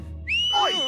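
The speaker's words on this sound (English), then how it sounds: "whistle as loud as you can." In a Peter Rabbit cartoon, a single loud, sharp whistle bursts in and slides upward, sustained to the end of the brief moment.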